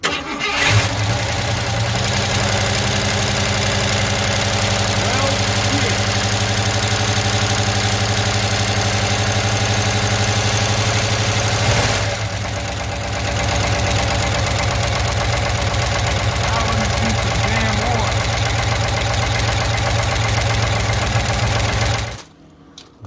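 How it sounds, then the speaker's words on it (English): A 1965 Mustang body on a truck frame has its engine start, then idle loud and steady and close by, with a brief dip in the middle, before it cuts off abruptly near the end. "Well, the engine does start up, as you can clearly see."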